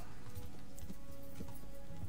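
Hooves of a horse in a video game clip-clop in a quick, irregular patter over a steady low game hum, soft and mid-distance, with no talking.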